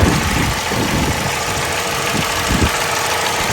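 A cold 2016 Opel Corsa E engine idles at a steady, even hum, with a faint knocking texture and soft low-frequency pulses running through a continuous, fairly loud drone.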